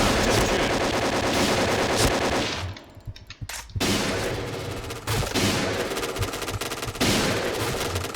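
Rapid automatic fire from an AK-12 rifle in the shooter game Point Blank, loud sustained bursts with a brief pause near the middle, then more fast, dense volleys.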